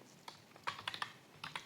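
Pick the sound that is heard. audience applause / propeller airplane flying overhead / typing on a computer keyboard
typing on a computer keyboard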